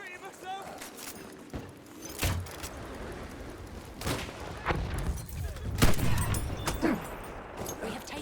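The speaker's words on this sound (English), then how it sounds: "There's a machine gun." Gunfire from Battlefield 1 crackles in a steady fusillade of sharp bursts with heavier booms, dense and busy throughout, while a voice talks over the battle.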